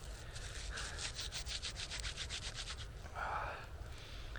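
Material is worked by hand into a fire starter in an abandoned cabin: a quiet, rapid series of rhythmic rubbing strokes, then a pause and one broader scrape, close and soft, with no voices.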